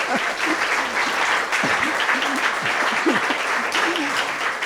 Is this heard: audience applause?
yes